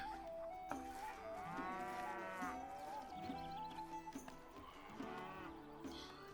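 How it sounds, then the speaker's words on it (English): Cattle in the video game Stronghold HD moo loudly and repeatedly, long low bellows overlapping one another over a steady background hum. "Very loud cows."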